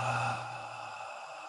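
A slow, steady exhale of breath during a yoga class. It starts fuller, then tapers to a soft, airy hiss that lasts the whole moment, close and unaccompanied.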